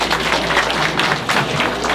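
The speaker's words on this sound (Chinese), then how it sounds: "咱们把掌声再送给咱们的这个总领事" Audience applause for a consul general at a Double Ninth (Chongyang) elder-respect celebration held by a Burmese-Chinese association in Southern California; a steady, dense clapping that fills the room without a break for about two seconds.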